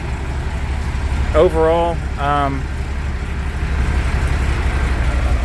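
Two buses running with their engines on give a steady low rumble throughout, partly under someone talking.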